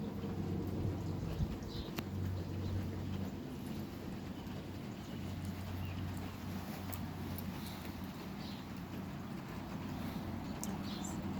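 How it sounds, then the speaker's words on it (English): Steady rain falling on a rainy day in Pennsylvania, a constant soft hiss with faint low rumble underneath, continuous and even throughout. "It's been raining pretty much every day."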